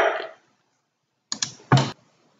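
A keypress on a computer keyboard, two quick light clicks followed by a firmer, louder keystroke, close and isolated against silence.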